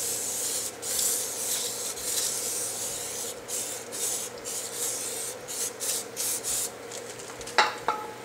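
A Suzuki Verona brake hub surface scrubbed clean by hand during a rotor and pad change; close, steady rubbing strokes with brief pauses, ending in a sharper scrape, no talking.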